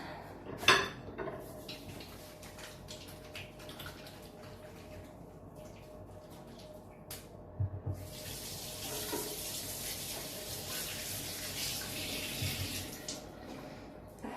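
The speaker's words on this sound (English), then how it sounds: "Wash my hands." Running water from a sink tap pours steadily while someone washes their hands, a soft continuous hiss with faint splashing, a single sharp clink near the start and the flow brightening in the second half.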